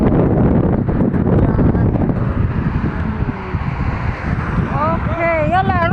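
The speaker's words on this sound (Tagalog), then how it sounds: "Kasi ang lakas ng hangin doon." Strong wind buffets the microphone at a seaside spot in Kuwait City at night, a loud continuous roar, with a person speaking briefly and another voice singing toward the end.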